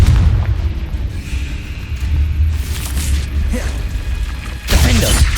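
Explosive Confringo blasting spell from Hogwarts Legacy combat: rumbling booms and mechanical clatter build through the fight, ending in a strong, close burst near the end.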